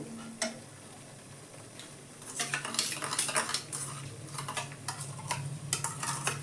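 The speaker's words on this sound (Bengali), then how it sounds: "এবার আমি টক দইটা দেব" A spoon stirs yogurt into a fish curry in a pan, with steady metallic scraping and clinking against the pan over a low sizzle, growing busier and louder partway through.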